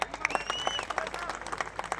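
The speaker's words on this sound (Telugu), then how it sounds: "గట్టి క్లాప్స్." An audience breaks into loud applause at a gathering, a dense burst of many hands clapping close by, with a few faint voices mixed in.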